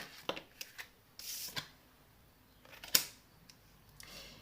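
Classic tarot cards are shuffled and drawn in a quiet room, giving a series of close, crisp flicks and riffles with a sharp snap near the middle, separated by short silent gaps.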